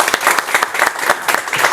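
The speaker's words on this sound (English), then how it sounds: "Round of applause, thank you very much." Brief burst of loud, close audience applause after a panel speaker at an EU ICT policy conference, many hands clapping in a rapid, even patter with no voices over it.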